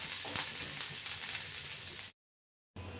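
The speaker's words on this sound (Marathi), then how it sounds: "चांगला खरपूस भाजून घ्यायचा कढीपत्ताही" Curry leaves roast for chutney in a pan with a continuous crackling sizzle, close and even, before the sound cuts off abruptly to silence and then briefly resumes.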